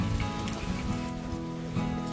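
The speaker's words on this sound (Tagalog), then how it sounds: "Nag-i-start na po yung ulan." Rain begins falling over farm fields with rice paddies, a steady dense patter on surfaces that stays even and fairly close, with no voices.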